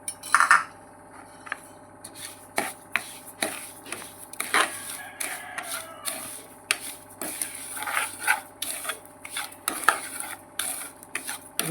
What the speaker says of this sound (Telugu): ఇది రవ్వ బాగా ఫ్రై అవ్వాలి.